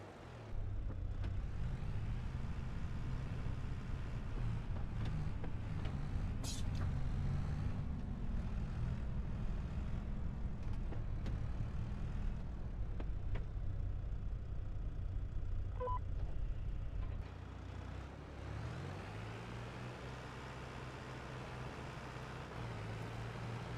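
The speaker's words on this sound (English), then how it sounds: "I don't know if this tractor has enough horsepower to actually pull this." A tractor engine in Farming Simulator 25 driving along, a steady loud low rumble held for a long stretch, briefly shifting to a lighter idle tone near the end, with no one speaking.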